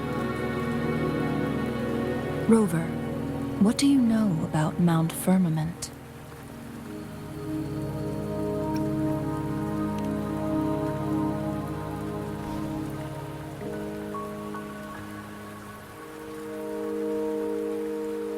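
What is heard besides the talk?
rain falling in the video game Wuthering Waves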